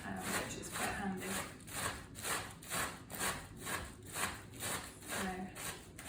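Sweetheart cabbage, also called hispy cabbage, grated by hand for a cabbage pancake batter, making a steady rhythmic rasping of about a dozen even back-and-forth strokes, close and moderately loud with no talk.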